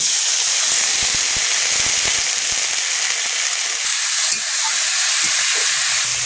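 Tomatoes dropped into a hot pan of fried spices, dried red chili, chopped garlic and green chili, giving a loud, steady, close hiss of sizzling oil that holds evenly throughout with no voices.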